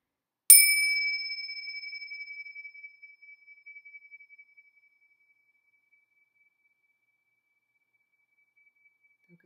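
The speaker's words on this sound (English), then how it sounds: "I'll begin by ringing a bell just to kind of bring us into the moment" A single struck mindfulness bell rings once, clear and bright, then its tone sustains and slowly decays over several seconds into near silence.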